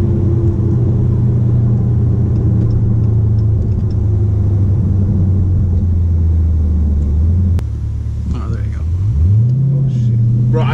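Automatic Dodge SRT with an eight-speed transmission accelerating, its loud engine drone rising then dropping as it shifts gears, with people talking inside the car.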